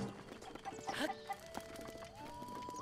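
Wild horses in The Legend of Zelda: Breath of the Wild, with faint clip-clop hoofbeats and a brief whinny over soft game music, quiet and distant.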